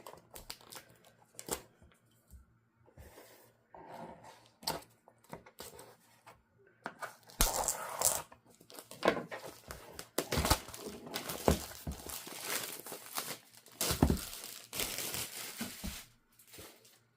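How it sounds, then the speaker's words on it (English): Plastic wrapping crinkles and crackles up close, with short snips and rustles that grow busier and louder partway through. "Let me get the little scissors in here to get through the plastic."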